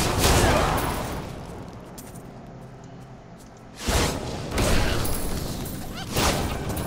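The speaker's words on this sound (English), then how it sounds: "So that is a really, really big explosion." Loud area-of-effect wizard explosion in the Diablo 3 video game: a heavy roaring blast, a brief lull, then further crackling bursts and booms rolling on.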